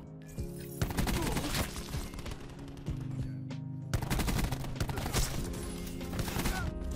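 Rapid gunfire in a first-person shooter game, sustained loud automatic bursts that break off briefly and resume, with a player's voice faintly underneath.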